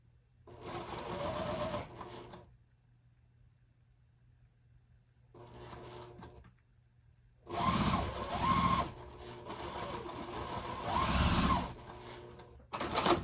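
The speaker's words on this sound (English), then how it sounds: "Now it's time to sew our half square triangles with our background." A domestic sewing machine stitches half square triangle units for a scrap quilt, running in several bursts of steady whirring with quiet pauses between, the longest run near the end.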